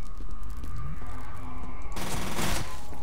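Rapid automatic gunfire in the shooter game F.E.A.R. rattles in a steady burst under an electronic hum, then a louder, brighter blast of shots erupts near the end.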